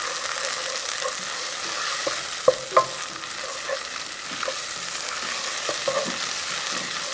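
Tomato paste and curry powder being stirred into a pan for Swahili chicken biryani, soft scraping strokes under a steady frying sizzle, with a couple of sharper taps against the pan.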